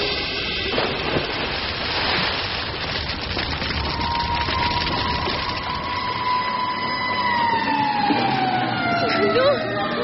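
A fire truck siren wails with a long rising and falling tone that grows more prominent over several seconds, heard amid heavy rumbling vehicle noise, with voices talking at times.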